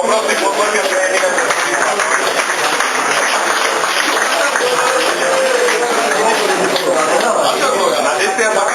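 A crowd at a tournament awards ceremony claps steadily for several seconds, a dense, even wash of applause with chatter mixed in.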